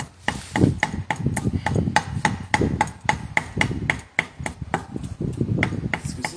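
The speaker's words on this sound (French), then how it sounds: "de hacher avec la hache, c'est meilleur que mixer" Rapid, regular cleaver blows on a wooden board chopping fresh herbs such as mint and coriander for a Thai larb, about twenty sharp knocks at a steady brisk rhythm, close and clear over a low kitchen rumble.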